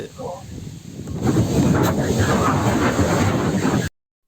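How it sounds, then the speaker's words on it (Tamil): Steady broadband wind rush buffeting the microphone outside a temple at Edayarpakkam, growing stronger after a moment and continuing without pause. "காற்றுடன் சேர்ந்த குரல் பதிவே சில இடங்களில் இருக்கும்"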